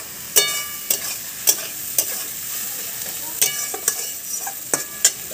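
Ginger-garlic paste is fried and stirred in a pan for a bhetki fish recipe, with sharp spoon scrapes every half second or so over a bright, hissing sizzle, close by.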